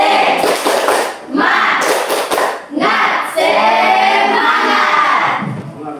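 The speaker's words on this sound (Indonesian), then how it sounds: "Kita tepuk semangat dulu biar semangat ya." Schoolchildren in a classroom doing a rhythmic spirit clap, bursts of patterned hand claps mixed with loud group chanting and shouting, close and energetic, pausing briefly between phrases.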